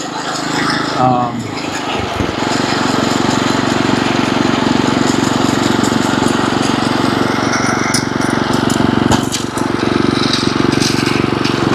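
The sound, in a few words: lawn mower mowing grass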